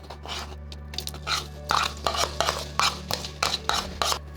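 Ginger, garlic and green chilli paste stirred into hot oil in a pan, with repeated metal spoon scrapes and clinks against the pan over a low steady hum, close and moderately loud.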